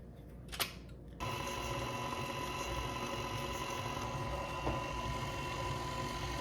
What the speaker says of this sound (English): we're gonna use our paddle attachment on the KitchenAid or whatever mixer you have, and we're gonna mix this together